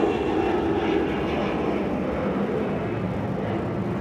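Air France airliner at Atlanta's Hartsfield-Jackson airport on a hazy day, its engines giving a steady, loud broadband roar that holds evenly for the whole stretch with no voices over it.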